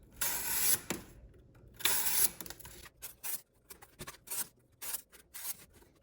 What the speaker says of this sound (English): we're gonna do a little cardboard cutting with the M390 Samurai